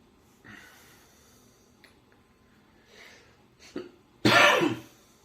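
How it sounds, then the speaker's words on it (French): A single loud, harsh cough bursts out near the end, preceded by a few quieter breaths and throat sounds in an otherwise quiet room. "Pardon, excusez-moi, la toux me gêne."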